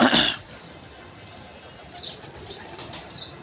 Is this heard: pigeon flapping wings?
yes